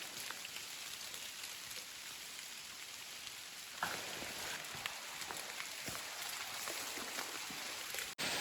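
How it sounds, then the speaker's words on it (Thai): Heavy rain with wind in a forest, a steady dense patter of drops on surfaces with occasional sharper hits, fairly close and continuous with no talking. "ตอนนี้ฝนตกหนักกว่าเดิมนะครับนี่ มาพร้อมลมด้วยนะครับนะ"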